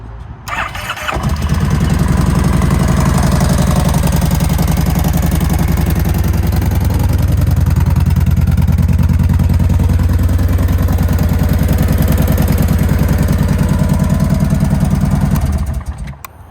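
A 2010 Kawasaki Voyager motorcycle engine cranks over, catches and settles into a loud, steady low-pitched idle close by, running alone without voices for about fifteen seconds.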